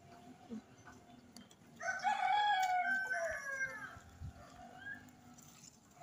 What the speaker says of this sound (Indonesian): ada ayam, dan juga burung merpati